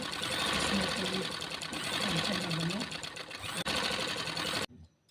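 A sewing machine runs steadily, stitching fabric along a neckline, its fast rattle continuing loud and close under someone talking before it abruptly stops.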